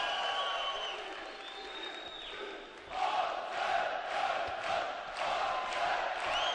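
Boxing arena crowd roaring and cheering for Azerbaijani boxer Mamadov during an amateur heavyweight bout, a dense sustained swell of voices that surges louder midway and stays steady to the end.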